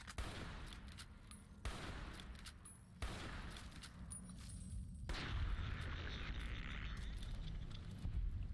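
Gunfire in a modded game of Fallout New Vegas, set near a cave. Several sharp shots land at intervals, each followed by a rumbling tail, and a dense, loud roar builds toward the end.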